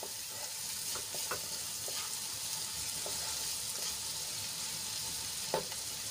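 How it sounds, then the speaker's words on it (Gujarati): Onions sautéing in a pan until they turn pink give a steady, close sizzle with light stirring scrapes and a few soft clicks throughout. "ડુંગળીને આપણે ગુલાબી રંગની થાય ત્યાં સુધી સાંતળી લેવાની છે"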